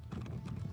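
Hooves of a rescued wild Mustang horse with no rider clip-clop in a steady, fairly close rhythm, continuous and moderately loud with no talk over them.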